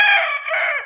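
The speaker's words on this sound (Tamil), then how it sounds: "வீட்டில் சேவல் பாருங்கள்." A native country rooster kept at a home crows once, loud and close, in a brief strained call that rises and then trails off.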